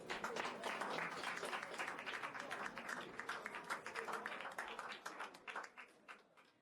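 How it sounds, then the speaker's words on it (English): Audience clapping at a cabaret show, a dense burst of applause that thins out and fades toward the end, heard at a moderate distance with some voices mixed in. "Je vous demande d'applaudir Lady Di Massina."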